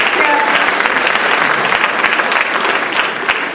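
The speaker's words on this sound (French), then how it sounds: "Ouais, bon applaudissement, merci." Loud, dense applause from a theatre crowd at a comedy show, continuous clapping that stays full and even for the whole stretch.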